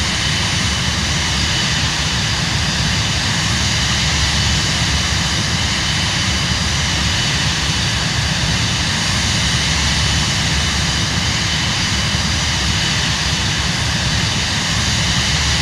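A steady, loud, unbroken roar of the Cirrus Vision Jet G2 engine in Microsoft Flight Simulator, a continuous broadband drone heard from inside the cockpit with no voices.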